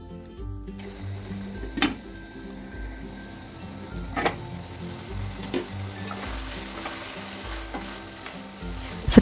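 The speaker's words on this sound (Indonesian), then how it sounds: "biarkan air dari dagingnya ini hingga menyusut atau kering" Beef sizzling in a pan as its released juices cook down, a steady bubbling fry with occasional sharp clinks and scrapes of stirring, moderately loud and close.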